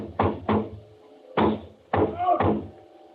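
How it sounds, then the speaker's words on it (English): Heavy fists bang on a door in loud, close blows in a 1953 CBS radio drama, a quick double knock, then a single thud and two more hard bangs. "I went to the door, banged on it."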